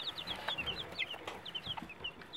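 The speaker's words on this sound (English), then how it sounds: "There's a baby chicken." Baby chicks in an indoor brooder kept warm in winter peep nonstop, a crowd of short, high chirps overlapping in quick succession, close by and clear with no talking.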